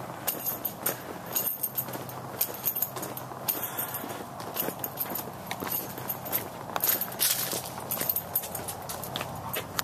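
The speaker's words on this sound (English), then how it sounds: "I can hear my keys." Footsteps walk steadily up toward a house with keys jangling at each stride, a close, crisp, continuous rhythm of steps and metallic clinks.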